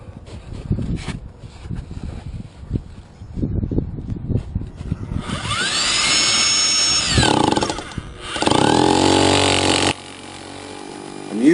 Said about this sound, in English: I'm using a Bosch hammer drill with a 2-inch diamond core bit